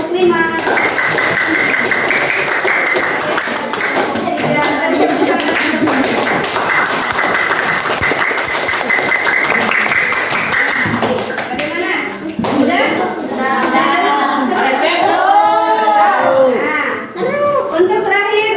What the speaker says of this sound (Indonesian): Kita kasih tepuk tangan juga untuk kelompok lima.